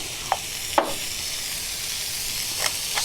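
A beef burger patty sizzles and hisses steadily on a hot restaurant griddle, with a few sharp crackles near the start and a continuous close frying sound throughout.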